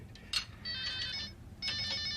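A telephone rings in a quiet room: a short chirp, then two longer electronic ringtone bursts with a brief gap between them, clear and fairly close.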